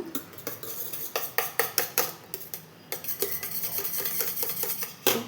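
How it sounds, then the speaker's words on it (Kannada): A spoon scrapes and clinks against a metal pot in a quick, uneven rhythm of repeated strokes, mixing cucumber paste, close and clear, with no voices. "ಚಲೋ ಮಿಕ್ಸ್ ಮಾಡೋಣ"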